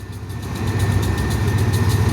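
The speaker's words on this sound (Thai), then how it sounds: "จะให้ทุกท่านนะฟังเสียงเร่งเครื่องดีๆนะครับ" A diesel train engine at Salaya railway station idles with a steady low rumble and rhythmic throb, swelling slightly louder partway as it revs, close and continuous.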